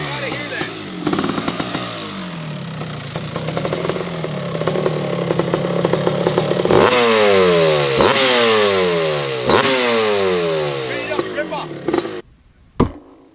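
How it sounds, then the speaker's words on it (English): A 1984 Honda CR250R, a liquid-cooled two-stroke motorcycle in Tahitian red, revs loudly and up close, its engine pitch sweeping up and falling off in repeated sharp blips after a rough, steady run before cutting out. "Honda CR250, two-stroke, liquid-cooled, fire-breathing dragon in the Tahitian red"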